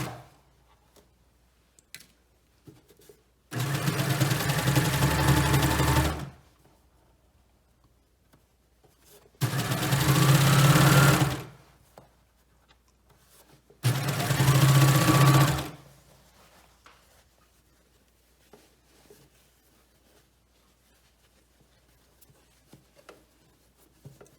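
A sewing machine stitches the hem band onto a bomber jacket in three steady bursts of a few seconds each, close and clear, with quiet pauses between runs and no talking.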